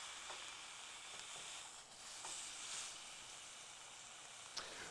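A rack of lamb searing in a hot pan, giving a faint but steady sizzling hiss throughout with a few small crackles.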